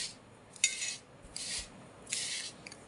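Fenugreek powder, mustard powder and garlic cloves being stirred together in a bowl for a mango pickle spice mix, with three distinct scraping, rasping bursts of mixing separated by brief pauses, close and fairly quiet.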